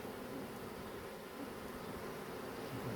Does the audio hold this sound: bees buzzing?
yes